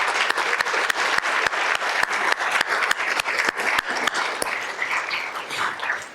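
An audience at a college of nursing scholarship and alumni awards ceremony applauds in loud, dense, continuous clapping that holds steady, then thins slightly toward the end.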